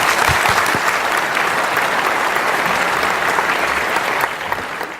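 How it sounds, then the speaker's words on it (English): Warm audience applause fills the hall, loud dense clapping from a large crowd that stays steady and begins to fade slightly in the final moments. "Let's thank them once again with our warmest applause."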